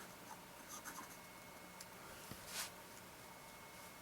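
The nib of a 1930s Mentmore fountain pen, an osmium-iridium tip, scratches across paper while writing, a faint, close, papery scratch in short strokes over quiet room noise, with no talking.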